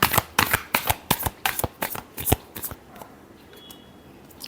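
Tarot cards are shuffled in a quick run of about a dozen crisp riffling bursts, close and fairly loud, before the motion stops and only quiet room hiss remains.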